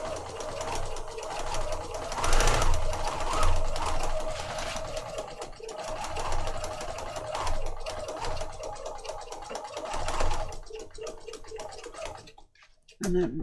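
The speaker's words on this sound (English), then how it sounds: "I am just going to stitch down this side" A sewing machine runs steadily, stitching down the side of a fabric file folder journal. The needle chatters continuously and close up for about thirteen seconds, then stops briefly before starting again.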